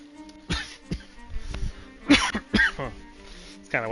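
Several dry coughs and throat clearings come from a nearby player during a Ravenswatch game session, spread out irregularly with quiet gaps in between.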